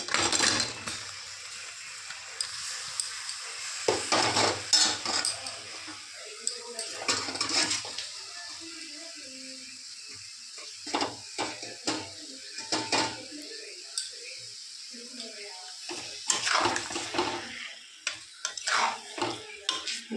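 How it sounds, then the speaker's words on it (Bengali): Raw mangoes are stirred into jaggery in a pan for sweet mango pickle: intermittent scraping and clattering of a spoon against the pot comes in bursts separated by quiet stretches, with a faint sizzle beneath. "নেড়ে নিতে হবে কাঁচা আমগুলোকে"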